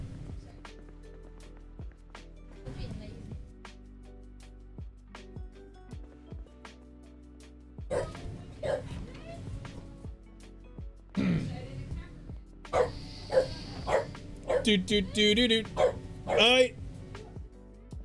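A dog barks and yips repeatedly in short bursts indoors, rising in intensity toward the end, while a person talks over and between the barks.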